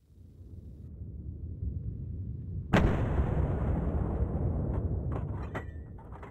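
A single loud, sharp rifle shot from a wild boar hunt cracks out over a steady low rumble of outdoor noise, followed by a dense lingering tail of echo and a few faint pops.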